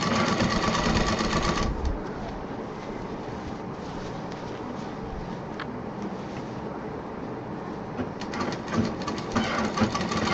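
Steady, loud whirring of a sewing machine stitching a large shopping bag before piping is added, running continuously with a slight drop in intensity after the first couple of seconds and small rattles throughout.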